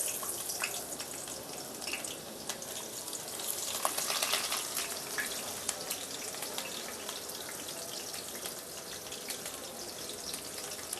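Onions fry in hot oil with a steady, dense crackling sizzle that stays broadband and even across the whole stretch, bright crackle bursts rising here and there, with no talking.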